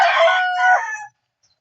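A gamefowl rooster crows once, close and loud, in a single strong call of about a second that cuts off into silence.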